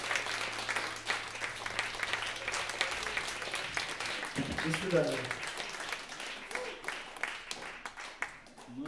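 Concert audience at a progressive rock festival gives sustained applause, a dense crowd of clapping hands, with a voice speaking briefly over it midway.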